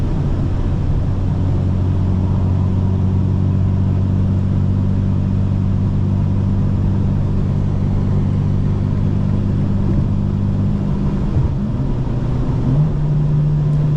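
2025 BMW M4 Competition xDrive engine droning steadily from inside the cabin, a low rumble holding pitch before briefly dipping and rising again near the end as it shifts down through the gears.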